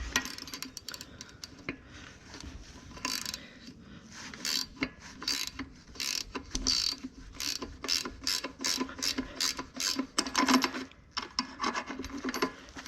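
A thread chaser turned with a ratcheting wrench to clean up a bent bolt's threads on a Kubota SVL quick attach, giving close, repeated bursts of rapid mechanical clicking and grinding in steady strokes, with no talking.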